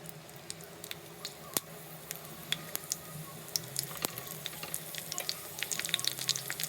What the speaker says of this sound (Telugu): ఫస్ట్ వచ్చేసి నేను పచ్చిమిర్చి ఫ్రై చేసుకుంటున్నాను